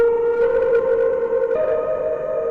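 Sustained Dreadbox Artemis synth tone run through a Clouds granular effect with distortion and big reverb, a steady droning pitch that steps up partway through, loud and alone with no talk.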